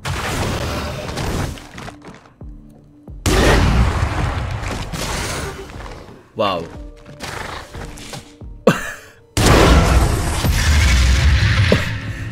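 Sniper rifle shots with a flashy weapon skin in the video game Valorant boom out in several sharp, loud bursts separated by brief pauses, with mechanical clicks between them and a short exclamation from a player.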